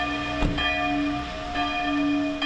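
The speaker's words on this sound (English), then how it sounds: "In his hometown, bells tolled." Church bells in Germany toll for the death of former Pope Benedict XVI, with sustained, overlapping tones and a struck peal, resonant and steady, heard from a moderate distance.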